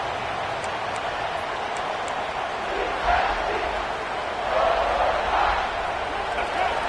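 Stadium crowd at a football game swells in two waves of cheering and roaring as the defense digs in near the red zone, a broad steady wash of distant voices under the noise.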